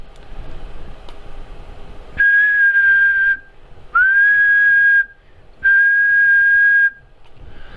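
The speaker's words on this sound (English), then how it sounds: "if I whistle into the microphone" Three sustained, steady whistled tones, each a second or more long, loud and close to a ham radio transceiver's microphone, separated by short pauses over background hum.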